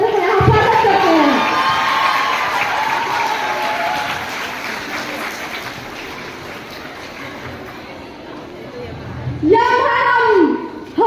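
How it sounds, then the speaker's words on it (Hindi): An audience at a college foundation-day cultural stage show in Korba applauds and cheers in a dense, sustained wash of noise. An amplified voice speaks at the start and again near the end. "जोरदार ताली से दर्शक यहाँ स्वागत करते हैं"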